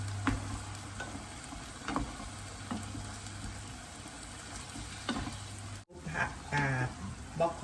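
Pork and broccoli stir-fried in sweet soy sauce over high heat in a wok: a steady, close sizzle with regular scraping stirs about once a second, then a brief pause and a louder burst of frying.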